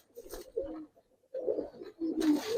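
Pigeons being shown for sale coo in low, throaty bursts close by, with brief pauses between three clustered phrases and a brighter rustle near the end.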